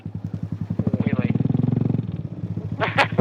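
A Honda Grom motorcycle at a skatepark, its small engine putting out a rapid, loud, pulsing putter up close that revs and then fades, with voices briefly heard at the end.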